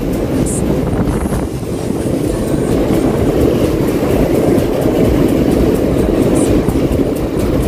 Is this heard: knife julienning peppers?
no